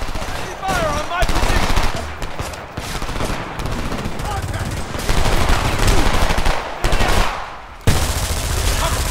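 Sustained bursts of machine gun fire in the video game Homefront, loud and close, rattling almost continuously with brief pauses between volleys.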